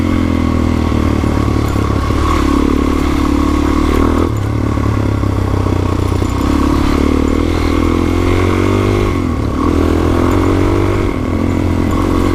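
On a forest trail in the Allegheny National Forest near Marienville, a motorcycle engine drones loud and close, rising and falling with gear and throttle changes, with rattles and clatter from the bumpy ground.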